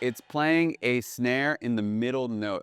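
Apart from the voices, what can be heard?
None of the usual background noises is heard.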